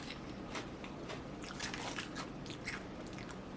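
Old Dutch barbecue potato chips get bitten and chewed up close, a run of crisp, brittle crunches over a few seconds with no one speaking.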